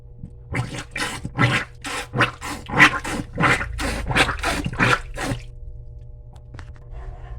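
Plunger pumping a clogged kitchen sink drain, about a dozen rhythmic wet squelching and sucking strokes in quick succession, close and fairly loud, then a brief quiet gurgle.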